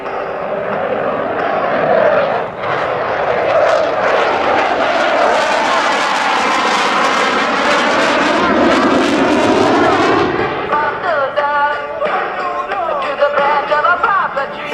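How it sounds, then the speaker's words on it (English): A CF-18 Hornet jet fighter roars past during an evening airshow demonstration, its engine swelling to a loud, sweeping rush then fading into a rumbling, distant whine, with no voices. "The next pass will demonstrate the agility of the Hornet in changing directions."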